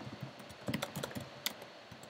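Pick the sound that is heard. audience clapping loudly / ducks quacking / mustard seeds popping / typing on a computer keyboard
typing on a computer keyboard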